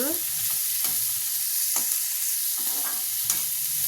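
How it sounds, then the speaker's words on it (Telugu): Green beans frying in oil for a beans fry, a constant close hiss of sizzling broken by a few sharp spatula taps and scrapes against the pan. "నూనెలో మంచిగా ఫ్రై చేసుకోవాలి బీన్స్"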